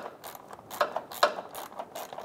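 A ratchet wrench snugs down a lower radiator bolt on a 2003-2008 Honda Pilot, producing a short run of quick mechanical clicks, close and fairly quiet.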